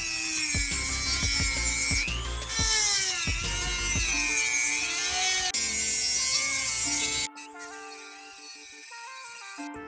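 Dremel rotary tool cutting into a steel DV8 tire carrier on a Jeep Wrangler, a loud, close high-pitched whine that rises and dips as the load changes, with clattering hits underneath, then a sudden drop to a quieter tonal hum.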